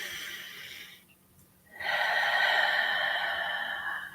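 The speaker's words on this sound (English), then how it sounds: "Take a deep breath in." A single slow, deep inhalation taken while seated upright with feet on the ground, heard near and fairly soft, with a quiet pause and then a steady airy breath that holds for a couple of seconds.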